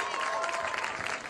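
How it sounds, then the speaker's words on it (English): An audience at a high school football team event claps in a brief, dense burst of steady applause, with a little crowd noise mixed in. "Let's give a big round of applause before I announce the winners."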